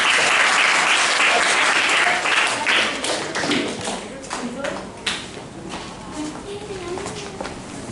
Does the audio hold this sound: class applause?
yes